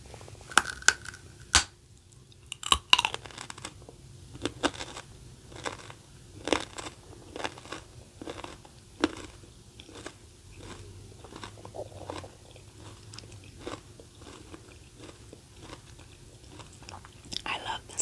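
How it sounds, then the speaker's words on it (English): Freshly harvested raw garden carrots are bitten and chewed up close, giving sharp irregular crunches over a quiet background throughout. "I love the sound, the crunchy sound of carrots when you chew on them."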